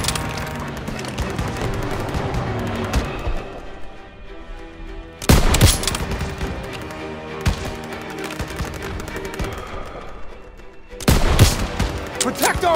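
Battlefield gunfire in Call of Duty WWII, sustained machine-gun and rifle fire broken by two heavy, loud blasts, with soldiers shouting orders over the din.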